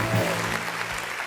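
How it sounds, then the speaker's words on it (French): Studio audience applause for a mother calling in to a French-language talk show, a short steady burst of clapping with a brief voice over it. "applaudissez pour la maman, s'il vous plaît."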